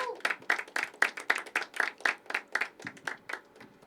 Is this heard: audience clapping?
yes